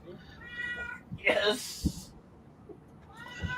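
A pet cat meows near the microphone, a drawn-out cry near the start and a shorter one at the end, while a person speaks briefly in between.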